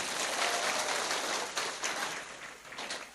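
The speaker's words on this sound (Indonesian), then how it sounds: "Saya minta tepuk tangan dulu dong." An audience at an Indonesian religious talk gives a short round of applause, a close, brisk burst of clapping that carries on steadily for a few seconds.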